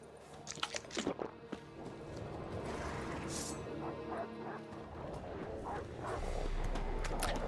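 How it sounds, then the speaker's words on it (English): Rabid dogs in The Witcher 3 video game let out several short, fairly faint yips and barks in quick succession, followed by scuffling and ambient game noise. "My god, why are there so many rabid dogs in this area?"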